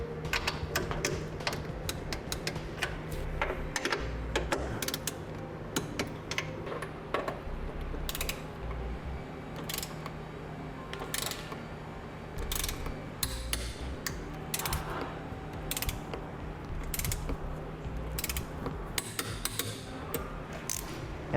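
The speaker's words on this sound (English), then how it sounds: "we can now torque them down the specified amount found in the instructions" A wrench ratchets as bolts are torqued down on Westin PRO TRAXX oval nerf bars being fitted to a 2015 vehicle, with rapid, close clicking bursts repeating steadily throughout amid light metallic clanks.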